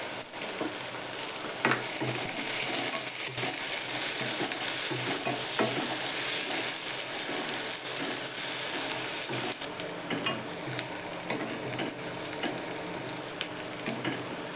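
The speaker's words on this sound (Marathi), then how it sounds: "कांदा टाकते मी आता लसूण मिरची जरा थोडीशी परतून घेतली आणि कांदा भरपूर टाकायचा" Onion, garlic and green chili sauté in a hot pan, a steady loud sizzle running throughout with repeated scrapes and stirring clinks of a utensil against the metal.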